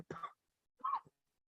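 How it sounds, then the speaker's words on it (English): Two separate bursts of coughing and throat clearing sit close to the microphone, divided by a short silence, with nothing else audible. "sorry guys about my cough."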